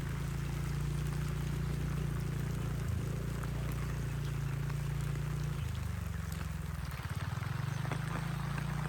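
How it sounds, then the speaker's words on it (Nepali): Heavy continuous rain pours over flooded tomato fields in Nepal, a dense, steady wash of noise with a low rumbling hum underneath throughout. "पानी अझै निरन्तर परिराखेको छ।"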